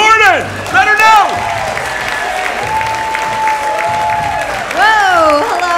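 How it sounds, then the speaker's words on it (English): An audience applauding comedian Marianne Gordon as she is introduced on stage, a steady roomful of clapping and some cheering beneath a loud, echoing voice and whooping through the venue sound system. "big round of applause for Marianne Gordon"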